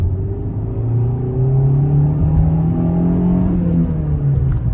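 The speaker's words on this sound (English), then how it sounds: "The sound is a typical 4-cylinder." A Renault Vel Satis 2.0 turbo four-cylinder engine pulls steadily under acceleration, its low droning hum rising gradually in pitch, heard up close with no voices.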